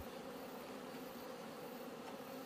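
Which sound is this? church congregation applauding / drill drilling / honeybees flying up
honeybees flying up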